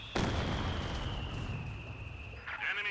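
A fuse artillery barrage strikes in Company of Heroes 2, with one sharp, loud blast followed by sustained low rumble and scattered crackle, and a second burst near the end.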